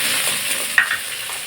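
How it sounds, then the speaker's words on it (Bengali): Chopped onion and three green chillies dropped into hot oil with bay leaf and cardamom, a brief close sizzle and stir with a faint clink partway through. "এখন এর মধ্যে দিয়ে দিচ্ছি 3টে কাঁচা লঙ্কা আর একটা মিডিয়াম সাইজের পেঁয়াজ কুচি।"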